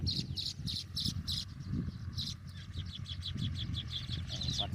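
Rapid, repeated high chirps from several small birds, like sparrows, moderately near, over a low background murmur of indistinct voices.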